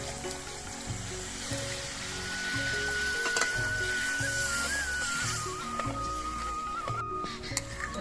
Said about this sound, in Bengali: এবার এর মধ্যে আমি নারকেলের দুধ দিয়ে দিচ্ছি।